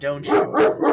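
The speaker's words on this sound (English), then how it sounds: "that's my dog barking at me" A pet dog barks close by in three quick, loud woofs, with a person speaking briefly at the start.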